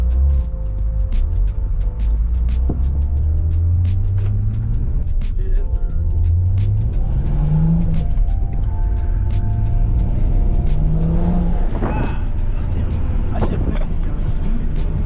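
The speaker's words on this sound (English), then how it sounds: "I'm gonna let Edgar drive the car now" BMW 335i being driven, engine note climbing and dropping through repeated gear changes, loud and close from inside the car, with people talking over it.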